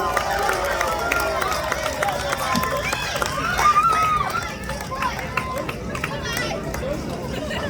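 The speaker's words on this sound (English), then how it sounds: "can we please give Bert a massive 28-year round of applause" An outdoor park crowd applauds a long-serving festival organizer, steady clapping mixed with cheers and a babble of voices, with whoops and shouts rising over the sustained applause.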